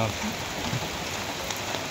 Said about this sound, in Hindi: बारिश हो गई है हम छतरी लेके खड़े हैं